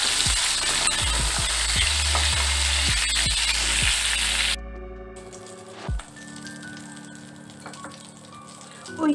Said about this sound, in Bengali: ওই তেলে দুটো শুকনো লঙ্কা, কালো জিরে, আলুটা দিয়ে দিচ্ছি